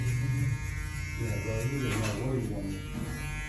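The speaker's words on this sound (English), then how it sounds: "Too easy for these little clippers. Too easy. They're just eating through this." A TPOB Goblin electric hair clipper buzzes steadily as it cuts through hair nearby, a constant motor hum with shifting texture, and someone talks over it throughout.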